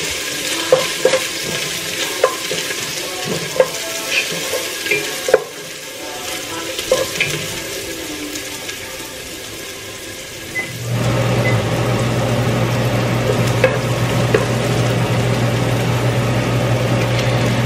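Malunggay leaves are stirred in olive oil with scraping, clinking strokes over a quiet sizzle, and then a loud, steady frying hiss with a low hum takes over.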